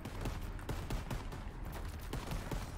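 Gunfire in the World War II shooter Call of Duty WW2 during a Battle of the Bulge mission, a rapid run of sharp repeated shots in bursts over a steady low battle rumble, moderately loud with no talk.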